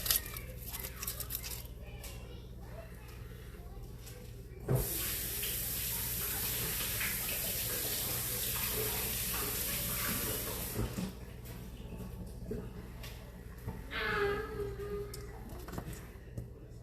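Tap water runs steadily into a sink to rinse garden banana peppers, a close hissing stream that starts abruptly and stops about six seconds later, with light handling noises before and after.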